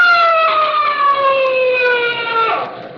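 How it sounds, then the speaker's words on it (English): A police siren in a 1946 radio drama wails loud and close, one long sustained tone slowly falling in pitch before fading at the end. "Hey, that's a police siren."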